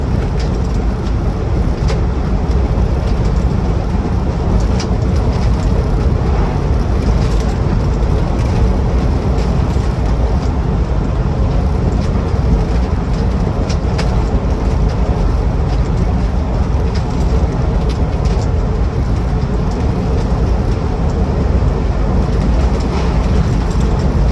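Inside a Land Rover Defender 90 TD5 soft top cruising at a steady 50 mph, a loud, constant drone of diesel engine, road and wind noise rumbles throughout with no change in pace.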